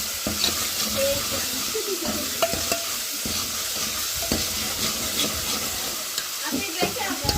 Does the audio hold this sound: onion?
yes